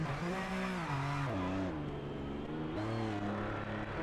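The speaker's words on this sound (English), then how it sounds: "This does not sound like the NSX I know." A Honda NSX race car engine in the Project Motor Racing video game revs and climbs through the gears, its loud, close whine rising in pitch, dropping at each shift, and rising again.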